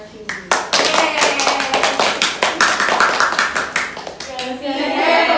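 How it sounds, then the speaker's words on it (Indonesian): A small group claps hands in rhythmic applause at close range, fast and fairly loud for several seconds, with voices joining in under the clapping. "Kita kasih tepuk hebat untuk Mbak Yosi."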